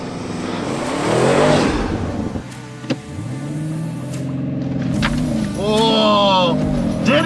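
An Audi RS6 tuned to Stage 1+ launches down a quarter-mile drag strip, its engine roaring and rising in pitch through the gears, loud and close, with a voice talking over it.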